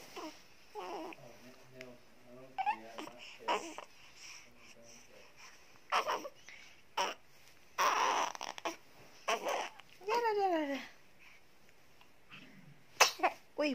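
A newborn baby sneezes several times between soft fussing and babbling sounds, each sneeze short and close, with quiet gaps and a few adult voice sounds between bursts.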